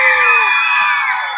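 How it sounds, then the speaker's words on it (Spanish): Children shout for joy together in a loud, sustained high-pitched cheer that tapers slightly over about a second and a half. "Un grito de júbilo."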